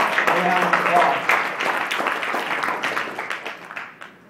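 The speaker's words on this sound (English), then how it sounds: "So give yourselves a round" Audience at a talk on human rights and criminalizing dissent breaking into applause, a burst of clapping that starts full and gradually thins out and fades over a few seconds.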